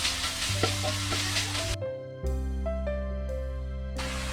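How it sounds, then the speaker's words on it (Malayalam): Sliced beans sautéing in a pan for a rava breakfast dish, a soft sizzle under steady background music, with a brief drop in the middle. "ഇട്ടിട്ട് കുറച്ച് ബീൻസ് സ്ലൈസ് ചെയ്ത് ചേർക്കുക. നന്നായിട്ട് ഒന്ന് സോട്ട് ചെയ്തെടുക്കുക."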